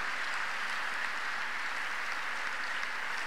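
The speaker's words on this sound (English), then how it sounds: "I want us to fear this God by clapping unto him." Congregation clapping during a Sunday church worship service, a steady, fairly faint wash of many hands clapping, with no talk, across about three seconds.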